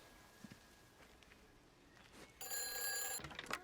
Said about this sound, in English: the telephone box is ringing